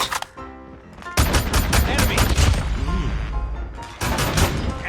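An SKS rifle in Call of Duty Mobile fires a rapid string of loud, close single shots, with a brief pause and then more shots, while someone talks over the gunfire.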